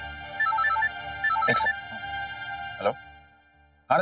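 A phone ringtone plays an electronic melody for an incoming call, repeating short tonal phrases near and clear, with a few sharp clicks between and no talk.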